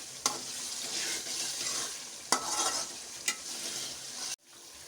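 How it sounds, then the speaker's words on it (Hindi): A spoon stirs lemon juice into a black-eyed bean curry in a pan, with soft scraping and a gentle sizzle over several seconds, marked by a few sharp clinks of the utensil against the pan. "यहाँ पर हम 1 टीस्पून लेमन जूस ऐड करेंगे और इसको अच्छी तरह स्टर कर लेंगे।"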